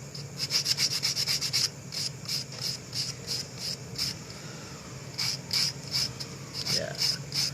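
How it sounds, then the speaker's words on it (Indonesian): Half-coarse sandpaper wrapped around a piece of wood rubs against a clay timber frog lure in quick, rhythmic rasping strokes, loud and close, with brief pauses between runs and a soft voice in the background. "Amplas setengah kasar. Seperti ini dilingkarkan di kayu Biar enak pegangannya."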